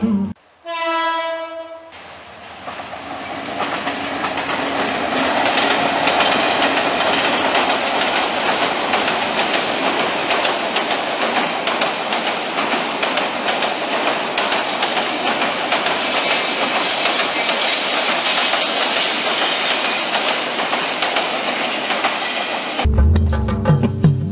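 A train rolls along a railway line through the forest between Dhaka and Sylhet, its horn sounding first and then a loud, steady rumble and clatter of wagons that lasts for most of the stretch before ending abruptly.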